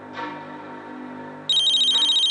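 A telephone rings with an incoming call, a bright electronic ringtone warbling in fast pulses that cuts in sharply after a low background tone, close and loud.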